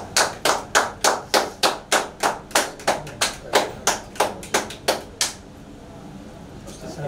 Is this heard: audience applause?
yes